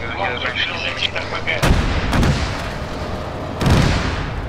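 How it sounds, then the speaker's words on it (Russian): Nearby gunfire in the Arma 3 military shooter: loud, sharp reports stand out at intervals over a dense, rumbling battle bed, with the biggest blasts landing near the middle and end. "Я слышал, он где-то рядом со мной стрелял"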